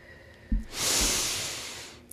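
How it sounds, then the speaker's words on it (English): A single deep breath, a short sharp inhale followed by a long, loud airy exhale close to the microphone, with no talking. "I'm going to take a couple of breaths."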